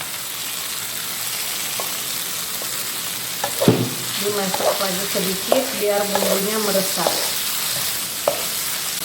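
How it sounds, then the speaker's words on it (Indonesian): Fried skipjack tuna sizzling and frying in a pan of Manado-style sauce, a steady loud crackle with stirring scrapes throughout, while a person speaks over the cooking. "Ikannya kita masukkan ke dalam."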